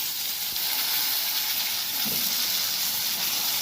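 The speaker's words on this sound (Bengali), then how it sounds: "এবার আলুটা ভাজতে হবে লাল করে" Potatoes fry in oil in a pan, giving a steady close sizzle and hiss with a couple of faint knocks from stirring, no voices.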